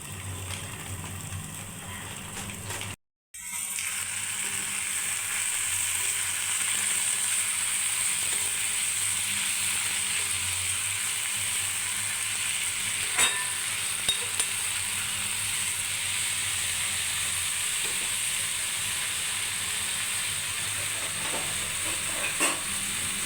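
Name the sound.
drumstick leaves frying in a pan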